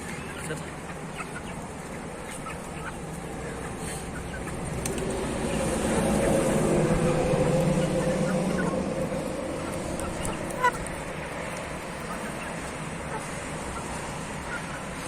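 A dense flock of chickens and roosters, mostly roosters, clucking and crowing all at once in a coop, a steady busy barnyard din that swells in the middle.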